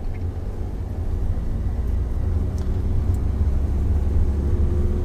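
A car building speed in low gear during a driving lesson, its engine a steady low rumble that swells slightly as the drive goes on, heard from inside the cabin with no talking.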